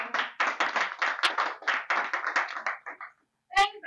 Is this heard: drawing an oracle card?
no